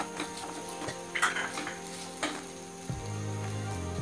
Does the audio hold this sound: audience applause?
no